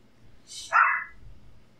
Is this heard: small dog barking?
yes